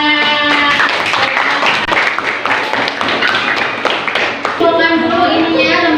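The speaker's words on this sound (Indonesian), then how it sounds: "tepuk tangan." A primary-school class claps hands together in a quick, rapid patter of taps, with children's voices chanting along over the clapping, close and loud in the classroom.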